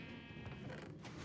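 Sheep bleating from an automatic sheep farm in Minecraft, a few soft, overlapping game bleats at a moderate distance with a steady low hum of background noise.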